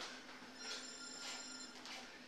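A mobile phone ringing with a repeating electronic tone, two or three trills spaced evenly, fairly faint and unaccompanied.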